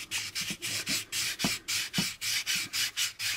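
Cross sanding a plastic part of an AMT U.S.S. Enterprise model kit's warp drive: a steady run of close, rhythmic rubbing strokes, about a dozen back-and-forth passes with brief gaps, no voices.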